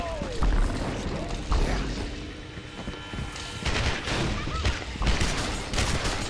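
Gunfire in the video game Gotham City Impostors: loud repeated shots and booming bursts over a busy, cluttered game soundscape, irregular and close.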